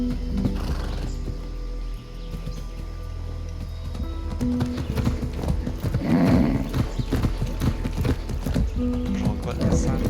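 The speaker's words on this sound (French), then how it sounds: "Il y a un cheval là" Horse hooves in the video game Far Cry 6, irregular clip-clop thuds that pick up into a quicker run, with a snort or whinny mixed in over game ambience and someone talking.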